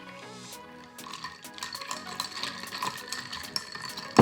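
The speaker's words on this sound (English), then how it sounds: "And then add the remainder, another 4 ounces of cool water." Cool water is poured over ice cubes in a glass while making unsweetened iced tea, a quiet trickle with clinking cubes and small cracks that grows a little busier toward the end, up close and with no talking.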